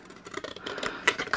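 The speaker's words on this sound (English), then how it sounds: "I could just cut this on my trimmer, but I've got my scissors handy." Scissors cutting a sheet of craft paper diagonally, a run of close, crisp snipping and rustling crunches that grow louder toward the end, with no talking.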